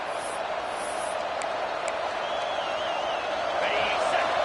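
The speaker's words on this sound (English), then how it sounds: "Decibels rising as the crowd gets behind this defense on 3rd down" Broad, steady roar of a stadium crowd in the CFB 26 college football video game rising behind the defense on a third down, a dense continuous wash that swells slightly louder toward the end.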